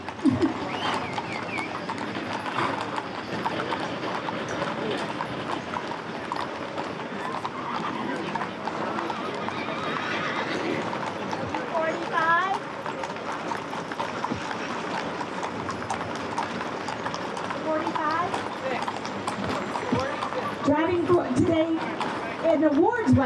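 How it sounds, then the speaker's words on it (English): Horse team hooves clip-clopping on pavement as they pull a chuck wagon in a town parade, steady and moderately close beneath ongoing announcer talk and crowd noise. "Ward's wagon is Mark and Nicole Vandervorst with their team pulling the Ward's wagon"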